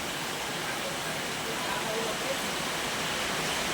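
Heavy rain pouring in Biribati, Cuttack, an unbroken dense wash of hiss, steady and fairly loud throughout without distinct drops.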